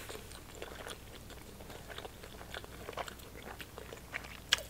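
Close, quiet chewing and soft crunchy bites of salmon sushi rolls, steady mouth sounds with occasional sharper clicks and no talking.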